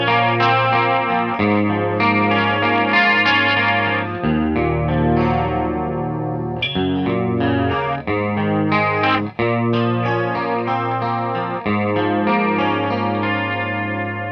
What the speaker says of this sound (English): This also has a detune function, which I think sounds really good.